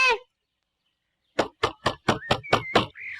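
Seven quick knocks on a door in a steady rhythm, close and fairly loud, following a short voice and a pause of silence.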